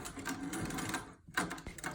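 A sewing machine stitches elastic onto fabric in quick rhythmic bursts of mechanical whirring and needle clatter, close and moderately loud, with a brief pause near the middle before stitching resumes.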